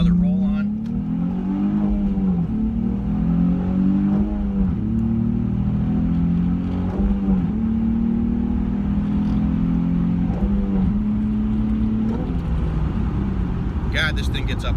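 A Nissan 350Z accelerates hard in a roll-on, its engine note climbing steadily in pitch through several rising sweeps and gear changes, loud and close inside the cabin, over a constant road rumble.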